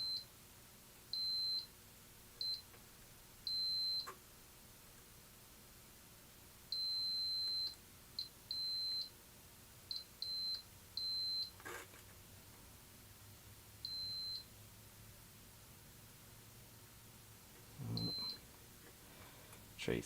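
A Power Macintosh 6100 computer under repair beeps in short, clean electronic tones, about a dozen irregular beeps of varying length with quiet gaps, fairly faint in a quiet room, with a brief knock near the end.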